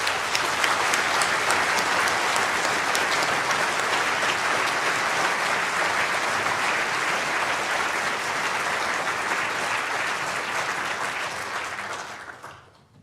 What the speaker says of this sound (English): I'd like to please invite everybody to give them a round of applause.